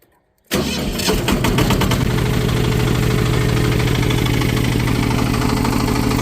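A walking tractor's small engine starts up and settles into a steady, loud chugging run, close by, driving a homemade sprayer, with no talk.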